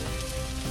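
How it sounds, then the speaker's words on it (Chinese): Scallion, ginger and garlic frying in a little rapeseed oil over low heat, a steady dense sizzle crackling evenly throughout, close and moderately loud with no voices. "加进刚才准备好的葱、姜、蒜，小火爆锅"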